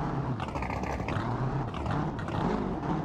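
A cammed Chevrolet Corvette C6 engine in a driving simulation game, a steady, loud low rumble with a choppy lumpy idle character, running continuously without talk.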